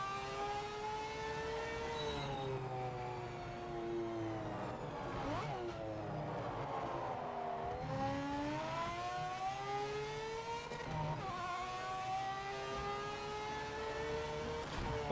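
A race car engine revs and shifts in the Project Motor Racing video game, loud rising and falling whine climbing through gears with sharp changes, continuous and close with no talking.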